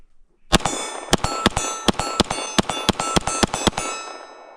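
A rapid string of about a dozen sharp Glock 19 pistol shots fired fast with a red-dot sight, each crack followed by a bright metallic ring from steel targets, loud and close with the ringing tail fading at the end.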